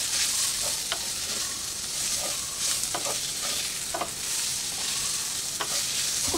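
Potatoes and onions frying in a pan for a Bengali fish chochchori, a steady dense sizzle throughout, close and loud, broken by a few light stirring scrapes with no talking.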